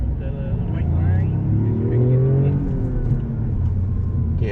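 Toyota GR Yaris with 260 horsepower, six-speed manual gearbox and all-wheel drive, its engine droning steadily with rising and falling revs as it laps a race track, heard from inside the cabin.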